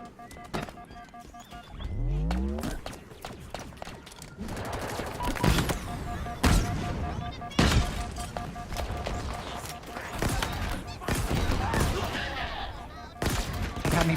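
Rapid automatic turret gunfire in the Halo Infinite campaign, dense bursts and fusillades cracking repeatedly over game ambience, with loud isolated impacts punctuating the volleys.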